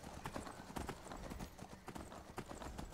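A horse's hooves clip-clop steadily in Skyrim while it is ridden, a dense rhythmic patter of footfalls close by with no speech over it.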